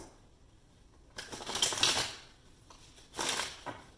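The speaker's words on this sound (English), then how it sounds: "we'll shuffle again for more clarity here" Two bursts of papery riffling as tarot cards are shuffled, close and fairly soft, separated by a short quiet pause.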